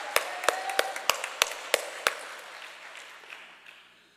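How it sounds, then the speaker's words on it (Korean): A church congregation at a revival service claps in praise to God: seven sharp, evenly spaced claps in the first two seconds, then a fading room tail with a faint stray tap near the end. "다시 한번 하나님께 영광을 박수 올려드리겠습니다"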